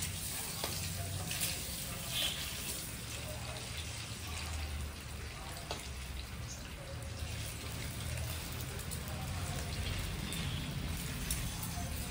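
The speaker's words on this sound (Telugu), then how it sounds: "ఎప్పుడైనా గుడ్లు బాయిల్ చేసి కర్రీ చేసుకునేటప్పుడు ఫస్ట్ ఇట్లా వేయించుకోవాలి" Boiled eggs fry in oil in a pan for an Indian egg curry, giving a steady close sizzle with faint stirring scrapes throughout, no voices.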